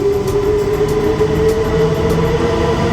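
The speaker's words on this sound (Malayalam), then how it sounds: "അത് വേറൊരു ട്രെയിനാണ്, സെവിയിലേക്ക് പോകുന്ന ട്രെയിൻ." A steady low rumble of a train idling at a station in Spain with a constant engine hum, loud and close, with faint periodic clicks above it.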